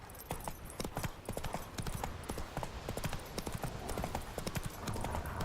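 Horse hooves clip-clop steadily in The Witcher 3 video game, a quick repeating trot of distinct hoof strikes over constant ambient background noise.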